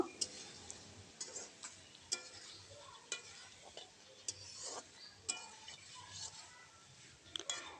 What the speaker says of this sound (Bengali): বড়িগুলো একটু নাড়িয়ে মশলার সাথে একটু নাড়িয়ে দেবো